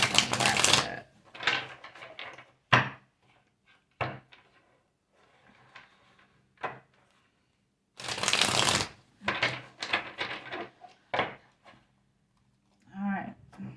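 Oracle and divine timing cards shuffled in bursts of crisp riffling and flapping, close and fairly loud, with quiet pauses between bursts and a soft tapping near the end.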